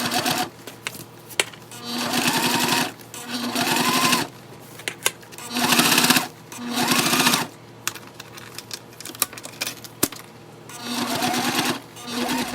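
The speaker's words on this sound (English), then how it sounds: "clip it, and then we need to top stitch again" A sewing machine top stitching a fabric waist bag runs in loud, close bursts of rapid needle chatter, several runs a second or two long separated by short pauses with light handling clicks.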